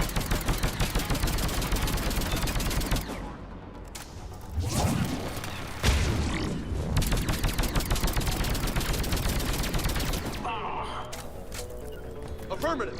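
A rapid-firing gun in the video game Mass Effect 3 rattles off dense continuous bursts for most of the stretch, with brief pauses and crashes between volleys, as a person talks underneath.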